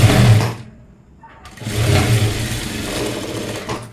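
Sewing machine stitching a blouse band, a loud motor hum that runs briefly, pauses for about a second, then resumes and runs steadily to the end.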